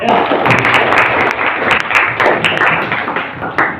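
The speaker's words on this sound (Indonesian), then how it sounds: "kita tepuk tangan buat Agung" A class of students in an Indonesian school lesson claps for a classmate named Agung, a dense, steady patter of many hands lasting several seconds at close range with no voices over it.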